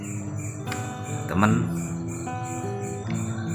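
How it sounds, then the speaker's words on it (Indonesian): Crickets chirp in a steady background drone, high-pitched and continuous, while someone speaks over them. "jelas terdengar suara jangkrik yang sedang berbunyi."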